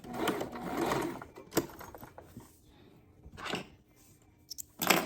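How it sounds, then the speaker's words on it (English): A home sewing machine back stitching a seam on baby bloomers, with short bursts of whirring stitching broken by pauses and small clicks, close and moderately loud with no talking. "And then I'm going to back stitch there."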